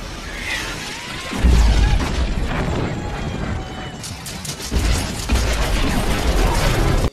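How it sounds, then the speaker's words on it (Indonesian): In an Afghanistan war film, an aircraft is struck by an RPG and crashes: a sudden loud boom, then heavy rumbling and clattering debris, with a second surge of crashing noise near the end. "Saat mereka akan mendarat, satu pesawat jatuh terkena RPG."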